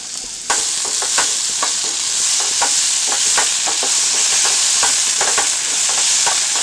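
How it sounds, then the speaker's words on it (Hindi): Diced potatoes fry with a steady bright sizzle in a pan while being made into poha at a remote car-camping spot in Saranda, India, and a spoon scrapes and stirs in repeated clinks; no one speaks. "डाल देते हैं आलू, इसको थोड़ा फ्राई करेंगे।"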